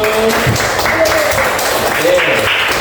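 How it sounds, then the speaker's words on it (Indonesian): A crowd claps together in a brief burst of applause, mixed with voices and room noise. "Tepuk tangan untuk kita semua dulu."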